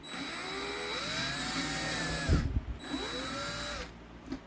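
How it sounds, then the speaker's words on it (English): Power drill boring a hole into a plastic RV tank, the motor whining and rising in pitch as it spins up, pausing briefly, then running again, close and loud. "First thing is we're gonna drill the hole."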